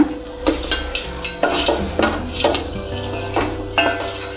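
A spoon scrapes and knocks against a metal pan while lemon rice tempered with cumin, dried red chillies and green chillies is mixed, giving repeated clinking strokes in a steady rhythm, close and fairly loud with no talking.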